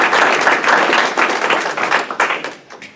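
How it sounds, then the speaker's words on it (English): Audience at a lecture event breaking into a round of applause, dense clapping close and loud, thinning out toward the end. "please join me in a round of applause to recognize all of our benefactors"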